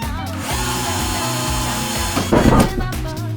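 A petrol string trimmer with wet line drones up close with a steady engine whine, briefly revving harder and rasping as it bites into something before settling again.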